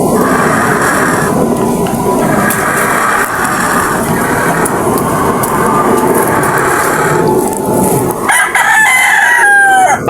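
A young stag rooster crows loudly and close, one long drawn-out call filling most of the stretch, with fainter clucks and a short break near the end.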